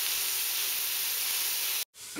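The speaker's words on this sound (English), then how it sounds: "We're just gonna let this saute in the pot for a bit." Onions and minced garlic sauteing in a pot give off a loud, steady sizzling hiss that runs continuously and cuts out abruptly near the end.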